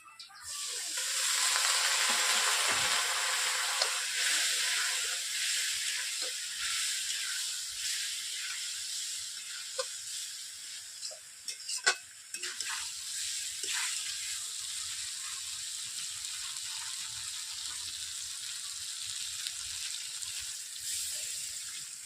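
Oil sizzling and spitting steadily in a pan of frying eggs and potatoes, a loud broad hiss that swells early and keeps crackling with occasional sharp pops throughout.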